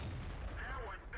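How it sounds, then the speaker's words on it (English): A tank cannon fires in the World of Tanks video game, a deep booming blast that rumbles briefly, with a short whining game effect sweeping over it. "A shot on the top of the turret of the IS-3"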